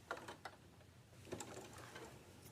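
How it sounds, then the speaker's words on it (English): A sewing machine stitching fabric for a sunglasses case, a faint, quiet mechanical whirr with light clicking, heard close with no talk. "Now I'm going to sew from this edge down to the bottom"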